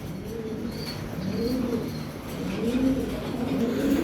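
Racing pigeons coo in low, repeated rolling calls, close and fairly loud, several soft bursts following one another in a loft with no talking.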